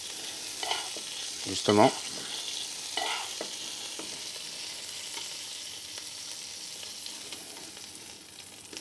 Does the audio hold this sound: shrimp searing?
yes